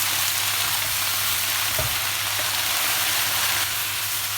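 Swiss chard sautéing in a pan for a gratin, a steady close sizzle of frying greens with a soft stirring scrape partway through, no voices.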